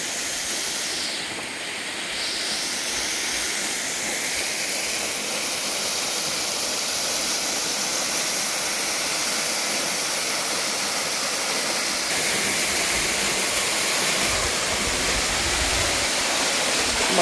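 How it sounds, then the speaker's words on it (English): Steady, loud roar of the Little Mashel River waterfall near Eatonville, Washington, a broad, constant rushing hiss heard up close with no talking. "I'll walk behind the waterfall."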